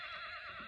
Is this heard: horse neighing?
yes